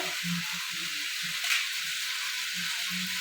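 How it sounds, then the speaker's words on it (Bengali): Lentil dal with pieces of mango boils in a cooking pot, giving a steady close bubbling hiss with soft low pops scattered through. "দেখো ডাল ফুটছে"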